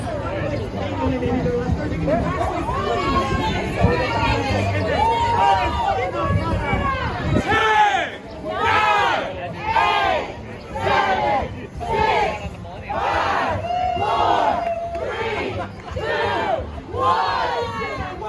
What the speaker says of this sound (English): There's quite the crowd over there